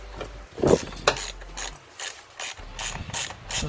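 A hand ratchet clicks in short bursts while removing the cylinder 8 ignition coil on a Coyote Mustang engine, with brief pauses between runs of close, sharp ratcheting.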